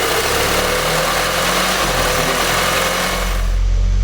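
The engine of a VW MKV GTI with an idle fault idles loudly and close by, a steady low rumble with an uneven throbbing pulse. The faulty idle persists after new coil packs and O2 sensors have been fitted.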